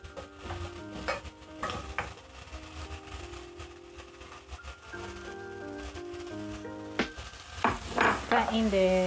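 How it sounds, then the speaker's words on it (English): Short beef ribs get stirred in a pot with spices, garlic and tomato, giving a soft continuous sizzle broken by scraping spoon strokes and occasional clinks against the pot, close and moderately loud. "Stir in the short ribs. Make sure they're coated with all the spices, all the flavor from the garlic."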